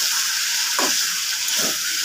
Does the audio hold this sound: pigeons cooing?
no